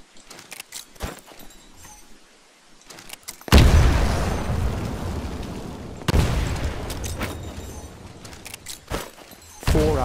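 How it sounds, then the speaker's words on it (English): Grenades explode one after another inside building windows in the Titanfall video game, two loud, booming blasts with long rumbling decays amid scattered clicks and small game sounds. "Throw a grenade into each of the windows."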